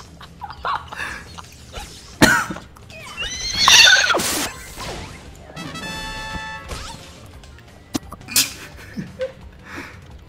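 In the video game Happy Wars, a horse whinnies loudly mid-clip among clattering hooves, impacts and other game sound effects.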